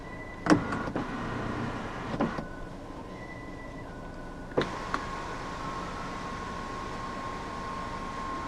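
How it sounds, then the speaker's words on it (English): The electric sunroof motor of a 2019 Proton X70 whirs steadily as the roof tilts up to its vent position inside the cabin, preceded by a few soft clicks and thumps. "While the sunroof also opens up as a vent."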